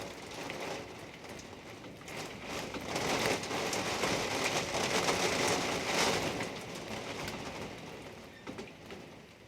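Storm rain streaming against house windows, a loud, continuous wash of drops that swells in the middle, with a few soft bird-like coos mixed in and no talking.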